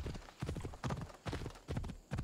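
Horse hooves in the video game Assassin's Creed Odyssey clop in quick, even bursts, a near and fairly quiet gallop with short gaps between hoof strikes and nothing else heard.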